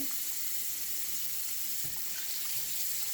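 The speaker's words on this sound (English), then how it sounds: "I'm just going to get some lukewarm water." Kitchen or bathroom tap running lukewarm water into a sink, a steady continuous rushing stream from start to end, close and fairly loud with no voices.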